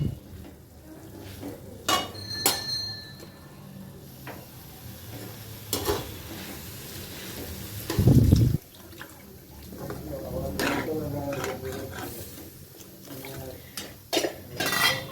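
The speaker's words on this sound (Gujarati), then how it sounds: "છોલે બાફવા માટે જે પાણીનો યુઝ કર્યો હતો એ પાણી આમાં એડ કરીશું" Pots clatter and a spoon stirs while chickpea cooking water pours briefly into a pot of chickpeas with a low gurgling splash, over a steady kitchen sizzle and intermittent talking.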